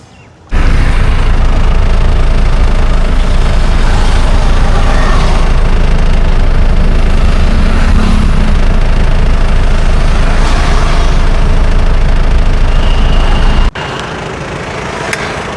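A jeep's engine with a fault runs loud and close. After a brief quiet start, its heavy, steady roar continues until it abruptly drops to a lower rumble near the end.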